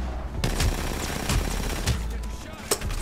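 Repeated gunfire bursts in the video game Apex Legends, several sharp shots spaced across the clip over a steady dense game background, with a voice briefly audible.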